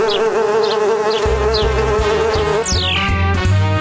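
Cartoon bees give a loud, steady buzz over bouncy animated-story music, and a sliding whistle drops in pitch partway through.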